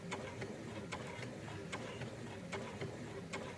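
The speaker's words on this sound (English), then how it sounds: "I'm riffing off my sewing machine." A sewing machine stitches slowly, giving faint, evenly spaced ticking clicks over a low mechanical whir, close by and with no voices.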